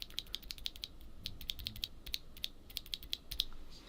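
Rapid clicks of black switches on a Redragon Vata mechanical keyboard, close and crisp, in quick irregular bursts with no talk.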